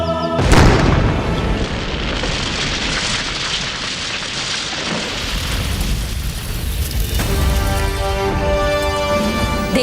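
A sudden loud boom bursts out, followed by a long crackling rumble that gives way to swelling music.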